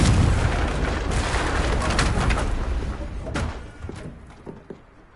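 Fiery blast spell exploding in the Hogwarts Legacy video game, a loud booming burst followed by crackling debris and scattered smaller impacts fading out over several seconds.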